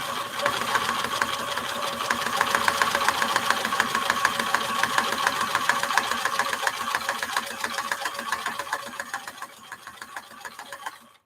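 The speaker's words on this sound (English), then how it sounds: "I think I'm just going to sew through the ribbon" A sewing machine stitches through ribbon with a fast, even mechanical chatter that runs steadily near the mic and then slows and stops at the end.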